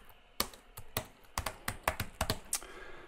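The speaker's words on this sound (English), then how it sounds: "if I could type" Typing on a computer keyboard: a dozen or so crisp, close key taps in an uneven rhythm, with no talk over them.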